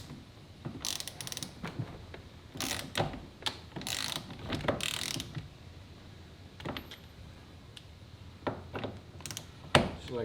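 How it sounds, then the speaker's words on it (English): A 21 mm wrench tightening the steering column locking nut on a third-generation Camaro fitted with a fifth-generation steering wheel: several short bursts of ratcheting clicks in quick groups, separated by quiet pauses, close and without speech. "I get my 21 millimeter and I can start tightening that down"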